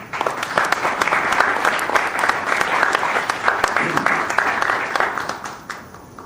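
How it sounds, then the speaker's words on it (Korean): A press conference audience in Korea breaks into loud applause welcoming a hospital cancer center director, sustained clapping from many hands with crisp individual claps standing out, fading near the end. "이종화 암센터장님을 큰 박수로 맞이해 주십시오"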